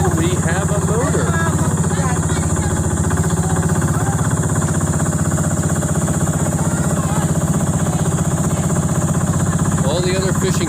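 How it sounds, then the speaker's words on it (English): A fishing boat's motor drones steadily and loudly throughout, with voices talking over the continuous engine noise on a ride to Apuao Island. "And we have a motor."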